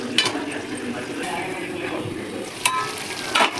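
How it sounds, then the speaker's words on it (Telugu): Dried shrimp, ivy gourd and tomato curry sizzling and simmering in a pan, a steady close frying hiss with a few sharp clinks of a utensil stirring against the pan. "దొండకాయ టమాటా రొయ్యలు, ఎండు రొయ్యల కూర దగ్గరికి బాగా ఉడకనిద్దాము"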